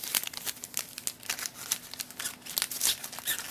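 Crinkly plastic wrapping crackles and tears in quick, close bursts as a taped Pokémon card tripack wrapper is pulled open.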